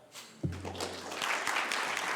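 Audience applause after a talk at a science symposium, a soft, steady patter of clapping that starts abruptly after a short thump and continues evenly from a moderately distant seated audience.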